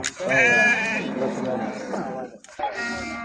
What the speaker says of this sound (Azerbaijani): Təmiz Beyləqan quzuları.